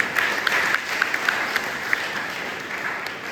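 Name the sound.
applause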